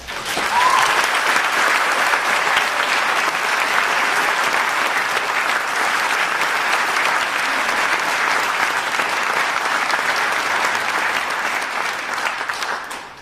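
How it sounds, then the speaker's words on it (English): An audience applauds at a governor's budget address, with dense, loud, sustained clapping that fills the hall for about thirteen seconds and fades slightly at the end. No one speaks over it. "Would you all give them a round of applause?"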